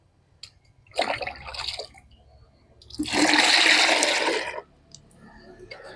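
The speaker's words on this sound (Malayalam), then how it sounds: "ഇനി നമുക്ക് ഈ എടുത്ത ഈ ഒരു കപ്പിന് തന്നെ നമുക്കൊരു മൂന്ന് കപ്പ് വെള്ളം ചേർത്ത് ഇതൊന്ന് ഡൈല്യൂട്ട് ചെയ്യാം" Cups of water poured into a large vessel to dilute peanut cake, heard as two gushing pours, the second longer and louder, with a few drips between them.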